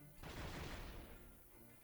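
A cannon shot impact in the Roblox naval game Rell Seas: a sudden broadband blast with a crashing burst that rolls on and slowly decays over a second and a half, heard alone without speech.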